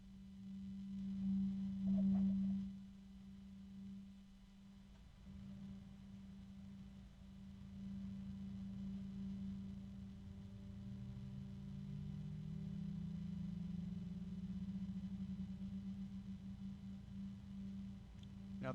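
Computer cooling fans spin at about 2,000 RPM, a faint, steady low hum and soft airy whir, with the pitch gliding slightly upward partway through.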